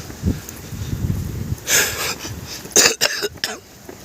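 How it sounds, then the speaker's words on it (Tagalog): A few short coughs and a throat clearing, close by, in bursts over rustling outdoor background noise. "ang ubo-ubo pa tayo"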